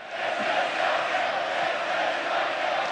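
A large political rally crowd at a Bossi speech roars and chants for secession, a dense sustained wall of voices heard from a distance with no single speaker standing out.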